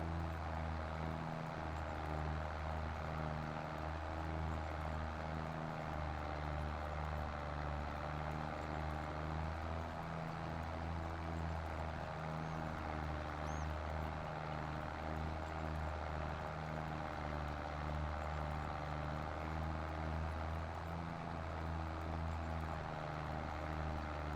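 A Minneapolis Moline tractor engine in the Farming Simulator game labours uphill under load, a steady, droning low rumble with a pulsing throb that continues unbroken, moderately quiet, with no talk over it.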